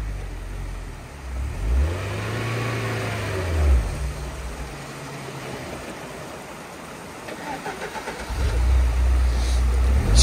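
Off-road car engine revving hard while climbing a washed-out road, rising and falling in bursts with a surge near the end, loud and close over rough rumbling.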